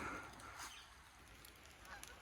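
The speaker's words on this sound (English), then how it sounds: "Oh, it's the goose." A goose honks outdoors in damp conditions, a few faint nasal calls spaced over a couple of seconds against soft background noise.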